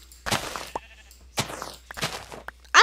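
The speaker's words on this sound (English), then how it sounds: "I'm gonna kill a sheep." Blocky sheep bleat in the Minecraft video game, several short wavering bleats spaced irregularly across the stretch, loud and close, with a brief sharp game sound at the end.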